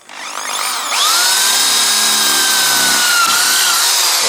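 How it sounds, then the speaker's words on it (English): A Makita 18V drill spins up and bores a hole with a small bit, a loud close whine rising in pitch, then holding steady under load with a brief dip near the end. "here is really my drill, MAKITA's drill, and there is small drill pipe, and there is this area, and now I start"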